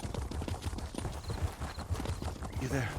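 Rhythmic galloping hoofbeats from a demon-dog mount in The Elder Scrolls Online thud steadily close by, with a brief chiming effect and a voice-like tone near the end.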